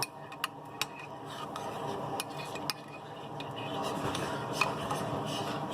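Western omelette mixture being stirred in a kitchen, with a few sharp utensil clicks against the bowl over a steady low kitchen background and faint voice-like murmur.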